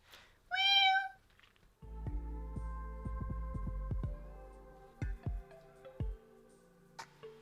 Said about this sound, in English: My little cat is throwing a fit because my parents left the house